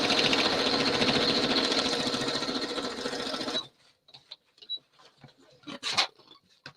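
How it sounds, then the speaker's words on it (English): A sewing machine stitches through layers of a paper file folder in a steady rapid whir for about three and a half seconds, then stops, leaving quiet rustling and handling of paper. "And I'm gonna just sew it."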